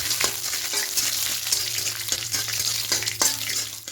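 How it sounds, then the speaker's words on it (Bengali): Peanuts fry in a little oil in a wok, a steady bright sizzle broken by repeated clicks and scrapes of stirring, close and fairly loud. "মধ্যে প্রথমে বাদাম দিয়ে দেব, একটু বাদামটা ভেজে নেব।"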